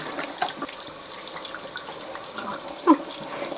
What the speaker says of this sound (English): You can also wash all the puffs that comes together with your products